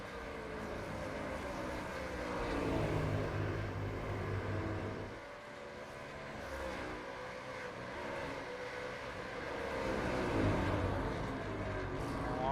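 Supercars race cars drive up Mountain Straight at Mount Panorama, Bathurst, in a final championship round. A line of engines roars at a distance in a continuous rising and falling drone, dipping briefly before building again.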